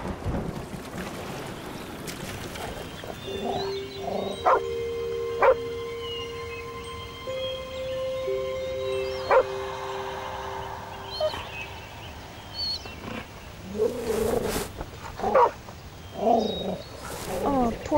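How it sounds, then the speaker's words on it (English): Dog barking and whimpering in the Davy Jones hidden object game, with sustained tonal game sounds and scattered sharp yelps over a background music bed. "Poor doggy."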